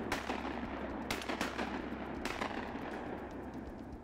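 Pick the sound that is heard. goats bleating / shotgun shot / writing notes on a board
shotgun shot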